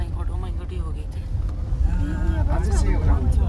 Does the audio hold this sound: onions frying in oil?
no